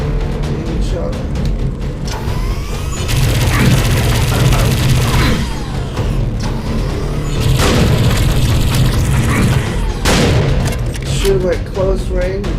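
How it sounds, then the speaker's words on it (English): Repeated shotgun blasts sound in Serious Sam 4 combat, loud booming shots roughly every few seconds over a dense layer of gunfire, mechanisms and game noise. "Shotgun to the face."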